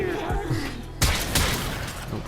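Snipetron Vandal sniper rifle fired from the hip in the Warframe video game: a sharp, loud shot cracks out about a second in, followed by a second report and a short rumbling tail.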